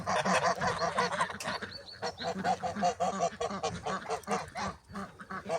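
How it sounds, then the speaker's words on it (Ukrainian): Several Mammoth geese honk in a busy, overlapping chorus of repeated calls, close by and fairly loud throughout, with no talking. "Ці гусики у нас мамути"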